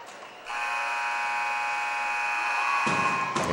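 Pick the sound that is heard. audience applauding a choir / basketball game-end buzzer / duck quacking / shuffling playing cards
basketball game-end buzzer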